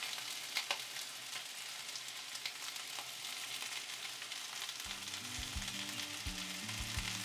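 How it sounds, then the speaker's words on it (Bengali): Potato pieces and cut yardlong beans fry together in a pan over a high gas flame, giving a steady, close sizzle throughout, joined by a low, irregular humming tone in the last few seconds. "আলু আর বরবটি একসাথে ভালো করে ভেজে নিচ্ছি।"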